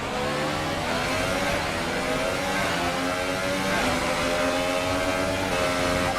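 Formula 1 cars race in the F1 2018 video game at Baku, a dense, continuous high-revving engine whine with steady pitch and slight shifts, loud and unbroken, with no voices.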